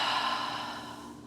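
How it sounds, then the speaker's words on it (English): A single breathy exhale pushed out through the mouth during a self-regulation breathing exercise, close and steady, fading gradually over about a second. "exhale out your mouth"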